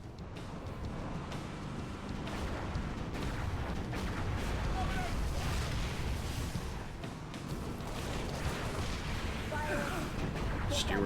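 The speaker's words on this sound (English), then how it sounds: "Those guns are pounding us with high-velocity plasma shells." Heavy plasma artillery in Halo Reach keeps pounding for the full stretch, with loud, dense booms and blasts layered over a constant roar of battle, and occasional voices mixed in.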